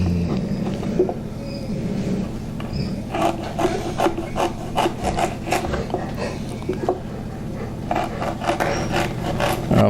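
Fresh ginger root being sliced with a knife on a cutting board while preparing flavoring for kombucha, heard as a steady series of close, crisp cuts and scraping strokes over a low background hum.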